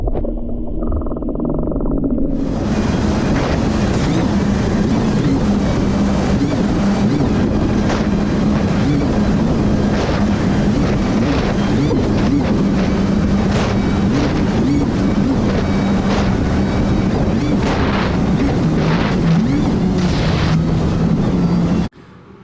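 Kawasaki Ultra jet ski running through ocean chop, engine roar and heavy wind rushing loud and continuous, with repeated slaps of the hull on waves, starting after a short quieter stretch and cutting off at the end.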